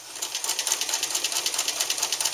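A Wizard sewing machine stitches slowly, giving an even run of light, rhythmic mechanical ticks at close range with no talk.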